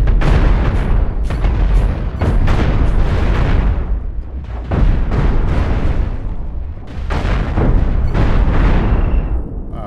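Repeated heavy explosions and booming bursts as spaceship guns are blown apart in the space-combat game Cosmoteer, loud and close, coming in clustered waves with brief lulls between them.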